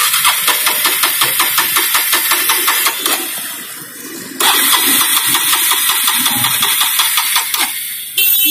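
A Bajaj Pulsar 220F motorbike engine turns over repeatedly in a rapid rhythmic chug in the rain, failing to start, pauses briefly, then cranks again loudly and cuts off near the end.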